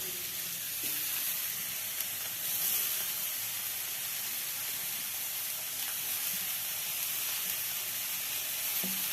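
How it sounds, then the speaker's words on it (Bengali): Steady broadband sizzling of grated cauliflower frying in hot oil, continuous and fairly loud throughout, with a few faint clinks and stirring noises. "আমি এইবারে গ্রেট করা ফুলকপিটা দিয়ে দিচ্ছি তেলের ওপরে।"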